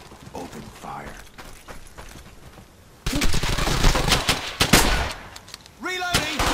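Gunfire in the World War II shooter Brothers In Arms 3: Hell's Highway, quiet radio-style voices first, then loud sustained bursts of automatic fire with sharp single shots, and voices returning over the shooting near the end.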